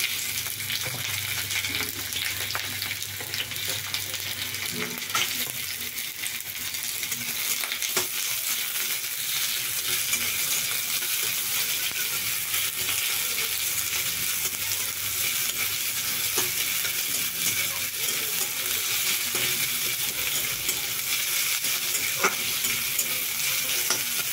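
Green chillies and long-sliced onions frying in a pan, giving a constant, even sizzle with an occasional faint stir, close and steady throughout with no voices.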